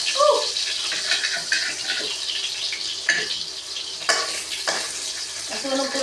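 Food frying and burning in a pan on a home stove, a steady close sizzle with stirring scrapes and occasional clatters throughout, with brief voices faintly in the background.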